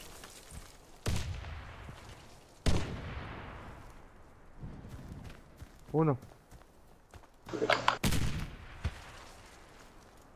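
Several loud video game gunshots crack out at intervals, with a person speaking between them.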